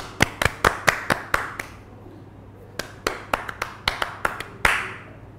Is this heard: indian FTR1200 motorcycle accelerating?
no